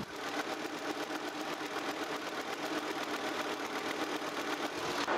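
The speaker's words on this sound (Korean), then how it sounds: "엔진 소리 들어보도록 하겠습니다." A white Kia K7 VG270 luxury midsize sedan's engine idles with the hood open, a steady, even mechanical hum and rapid ticking heard up close without pause.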